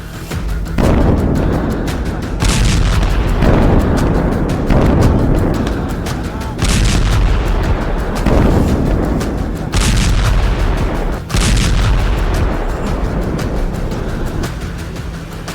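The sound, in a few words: explosions from bombs and missiles falling on Beirut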